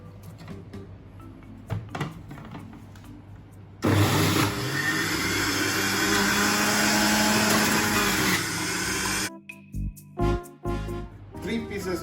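Blender whirring as it juices cucumbers, a loud steady motor drone running for several seconds between quieter moments with knocks and clatter around it.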